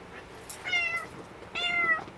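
A cat meows twice, two clear drawn-out cries about a second apart, close by in a quiet room with no talking.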